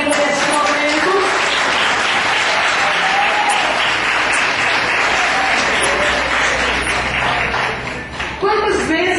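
Church congregation at an evangelical service clapping hands in praise, a loud dense sustained wash of applause filling the whole stretch, with voices mixed in beneath.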